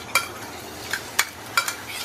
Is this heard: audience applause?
no